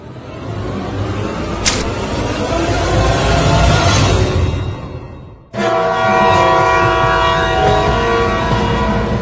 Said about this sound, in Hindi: लगता है अब दोनों ट्रेन की टक्कर होकर रहेगी